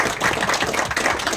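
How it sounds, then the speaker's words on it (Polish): Steady, dense applause from a crowd at an Oxford-style debate, many hands clapping at once without pause, fairly loud and close. "Wielkie brawa dla obu drużyn."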